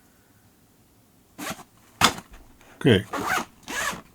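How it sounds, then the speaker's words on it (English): A zipper on the case of a car door panel removal toolkit is pulled in several short, raspy bursts at close range, with a brief spoken word among them. "There's a ding in the zipper."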